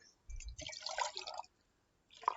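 Water from a tap is poured into a measuring cup indoors, heard as short, quiet splashing bursts separated by a brief pause.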